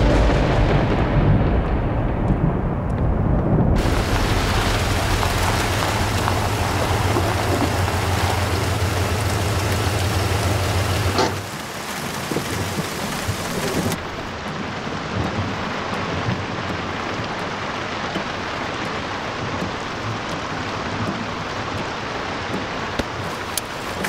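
Steady rain with a deep rumble like distant thunder fills the scene, first loud and broad, then a softer, duller hiss as the setting shifts, with no talk.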